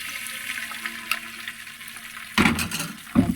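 An egg fries in a small amount of oil in a pan, with a faint steady sizzle that bursts louder and crackly near the end.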